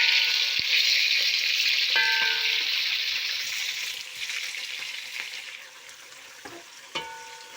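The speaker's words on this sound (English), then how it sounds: "I will just add in our meat." Meat fries in a pot with a continuous, close sizzle that slowly fades. Occasional light clinks of a utensil against the pot come through it, and no one speaks.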